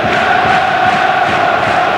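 Swedish Djurgården supporters in a Copenhagen stadium away match, a dense steady crowd roar with sustained chanting tones, loud and continuous without pause.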